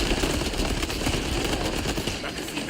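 Dense rapid gunfire in the video game Warhammer 40k Space Marine 2, a loud continuous burst of automatic shots running throughout without pause.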